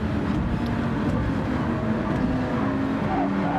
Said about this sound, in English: Because the car is so noisy and has such a big engine.